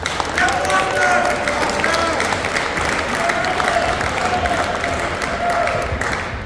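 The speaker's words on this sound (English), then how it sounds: "give him a big round of applause there for Foster" Banquet crowd at an awards night in a casino venue applauding for an honoree, a dense steady round of clapping with cheering and voices mixed in throughout.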